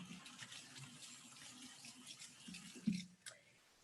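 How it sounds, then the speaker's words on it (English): Hands are washed under a running kitchen tap, a steady faint stream of water with light splashing and a small clunk near the end, no voices. "Just wash my hands here."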